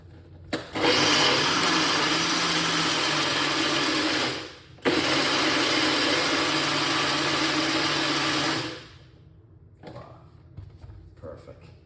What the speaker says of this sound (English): So you don't need to blend it too long when you have a good blender.